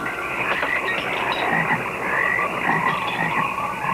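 Dense chorus of frogs croaking steadily from a pond in a vintage American horror film trailer, loud and continuous with many overlapping calls and no voices.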